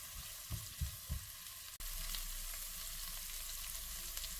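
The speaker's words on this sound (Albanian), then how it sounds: "fërgojmë vetëm për 2 deri në 3 minuta" Onion frying in a pan for chicken soup, a steady bright sizzle throughout, with a few low thumps of stirring early on before the hiss jumps louder and holds evenly.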